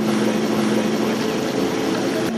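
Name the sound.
jet boats passing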